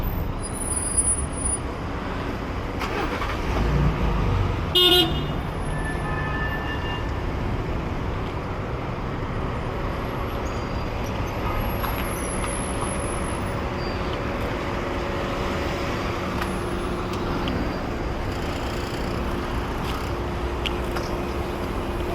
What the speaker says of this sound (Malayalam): ഇതെല്ലാം ക്ലബ്ബിലേക്ക് പോകുന്ന വണ്ടികൾ.